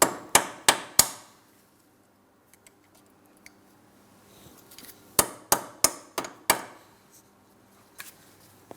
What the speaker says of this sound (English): I like to use cutters to peen this over.